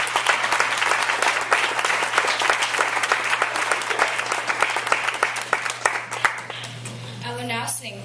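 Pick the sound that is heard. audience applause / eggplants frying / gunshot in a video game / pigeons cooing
audience applause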